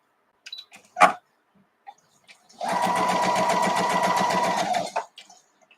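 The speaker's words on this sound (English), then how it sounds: "Let's try the quilting stitch, which is a 1 on this machine, and let's see what that does." A sewing machine runs a quilting stitch in a burst of about two and a half seconds of fast, even mechanical chattering, close and loud, with a few small clicks and handling knocks before and after.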